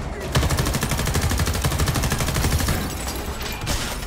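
Rapid automatic gunfire rattles without pause through Homefront: The Revolution, a dense, loud, evenly pulsing burst of shots that runs the whole length and eases slightly near the end.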